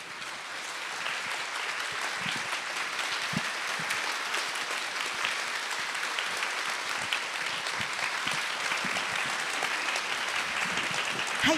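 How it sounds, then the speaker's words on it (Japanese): Audience at a film festival talk event applauding guests as they walk onto the stage, a continuous mid-level clapping with a few louder nearby claps and light shuffling. "大きな拍手でお迎えください。"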